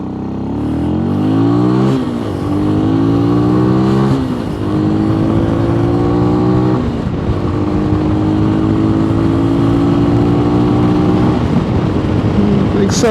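An MGB ATX-T 125 motorcycle engine rises in pitch, drops as gears change, then climbs again in a long steady pull, loud and close with wind noise.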